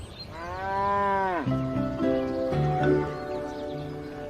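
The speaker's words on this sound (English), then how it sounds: "And cows like to feel calm, at ease." A cow moos in a long, loud, rising-then-falling call, close by, followed by a few lower lowing sounds, with no talking over it.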